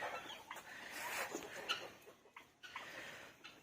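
A farmyard chicken, being caught outside to be put back in its coop, gives short clucks and squawks close by, with rustling and scuffling between the calls.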